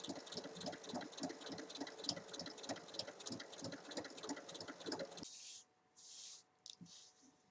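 Sewing machine topstitching along a tote bag's seam, a rapid, regular mechanical stitching chatter that runs steadily for about five seconds, then stops, leaving a few quiet handling sounds.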